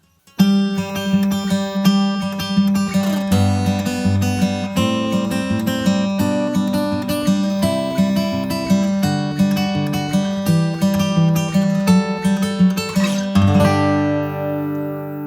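A guitar plays a song outro, picked notes and chords ringing clearly in a steady, close, loud passage that ends on a sustained final chord fading out.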